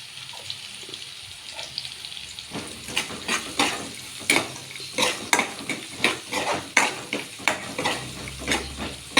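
Chopped capsicum fries in a pan with asafoetida, a constant soft sizzle underneath. After a few seconds, rhythmic scraping stirs and clinks of a spoon against the pan repeat over the frying, with no talking.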